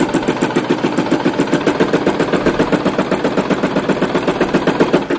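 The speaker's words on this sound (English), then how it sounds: "Once the material is all clipped, we're ready to start sewing." A domestic sewing machine stitches fabric for a scrunchie, running steadily and fast with a close, even rapid rhythm of needle strokes and no talking.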